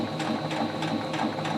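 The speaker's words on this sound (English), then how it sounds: "because the sewing machine only sews in a straight line" A sewing machine runs steadily stitching a fabric square in a straight line, its rapid mechanical whir and needle clatter continuous and close, with a regular rhythmic pulse throughout.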